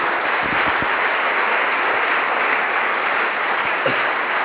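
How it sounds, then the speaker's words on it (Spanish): A church congregation at a Foursquare Christian service breaks into loud, sustained applause, a dense, even roar of many hands that fills the room with no speech over it. "apláudale al Señor, Él está aquí"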